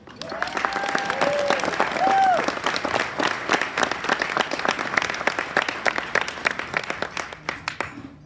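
An audience at an epilepsy foundation gala applauds to welcome a keynote speaker, with sustained, dense clapping from a large crowd and a few brief cheers and whistles near the start.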